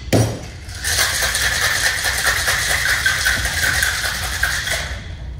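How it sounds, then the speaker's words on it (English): Ice rattles hard inside a cocktail shaker mixing a sidecar with triple sec, simple syrup and fresh lemon juice, a loud, steady, continuous clatter lasting several seconds. "We're gonna just hit it with a shake."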